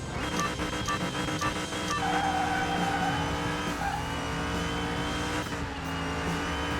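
A 1050-horsepower drag-modified Dodge Charger launches in Car Mechanic Simulator 2021, its engine a steady, loud roar with tire squeal and skidding running continuously, no voices.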